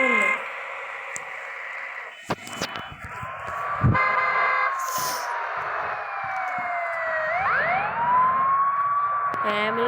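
An ambulance siren wails along a road in Ooty, its rising and falling tone sweeping through as it passes, amid traffic noise, a horn toot and some speech.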